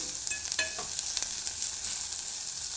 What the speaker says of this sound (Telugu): మంచిగా దగ్గరికి ఎర్రగా వేగిపోయాయి ఉల్లిగడ్డలు